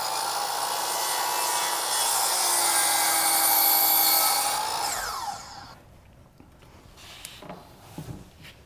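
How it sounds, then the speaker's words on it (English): A power saw set at 90 degrees whines loudly through a wooden baseboard for about five seconds, then spins down, leaving quiet handling noises. "So I'll set my saw at 90. We'll cut close to that line and see how good that looks."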